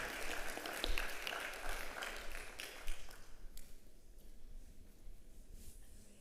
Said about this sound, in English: I'm trying to start a round of applause for him